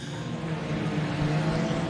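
Non-wing sprint cars race at Kennedale Speedway Park, a steady loud engine roar with shifting pitch as cars circle the dirt track in traffic.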